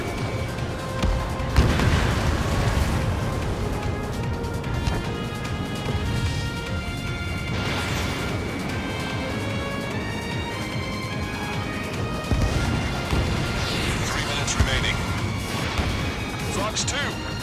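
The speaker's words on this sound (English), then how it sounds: "Missile launched." Dense battle noise from Ace Combat 7, with missile launches, booming explosions and rumbling aircraft layered over a soundtrack, loud and continuous, while radio voices talk throughout.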